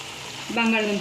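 Potatoes added to hot oil and tempering for an aloo baingan curry set off a short burst of frying sizzle, with a voice briefly heard over it.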